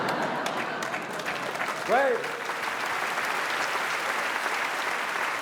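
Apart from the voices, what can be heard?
audience applause at comedy show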